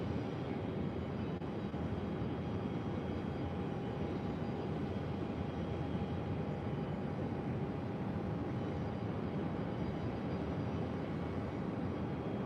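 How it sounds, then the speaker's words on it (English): A Dornier 328 jet arriving at Phoenix airport gives a steady, even roar with a faint high whine that holds constant throughout, heard from a moderate distance with no talking. "Next arrival here on the north side is Key Lima Air, flight 3700, coming in from Telluride. It's Donier A328"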